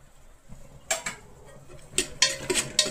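Peas and potatoes stirred in a cooking pot with a utensil, giving a few scattered metallic clinks and scrapes against the pot, fairly close and moderate in loudness, with quiet gaps and no talking.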